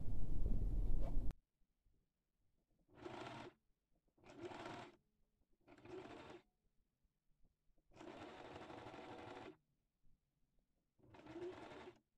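Sewing machine stitching a decorative round pillow, running in six short bursts of steady whirring with quiet pauses between, close and clear. A brief louder noise comes at the start.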